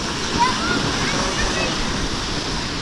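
Mountain spring water flows steadily at Kileshwar Mahadev temple in the Barda hills, a continuous broadband rush close by with no pauses.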